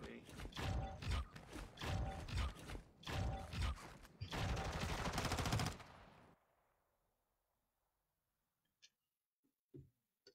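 Rapid bursts of automatic gunfire in a video game, several loud rattling volleys over about six seconds that cut off into near silence with a few faint clicks afterward.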